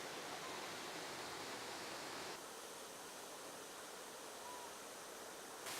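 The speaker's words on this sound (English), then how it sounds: "Now we're at the falls, the most popular attraction at the park." A waterfall at a park just outside Green Bay, Wisconsin, heard as a faint, steady rushing hiss of falling water, unbroken and even throughout with no voices.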